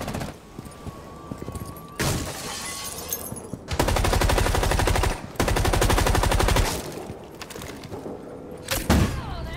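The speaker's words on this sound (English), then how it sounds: "We were just shooting with a suppressor." Bursts of suppressed gunfire in the tactical shooter Rainbow Six Siege, coming in quick rapid volleys with short pauses between them, loud and close amid other game noise.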